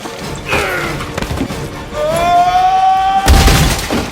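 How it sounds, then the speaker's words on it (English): Gunfire in a Matrix film scene: a rising tonal whine gives way to a sudden loud, heavy burst near the end, close and forceful, with no talking. "we finally have some gunfire"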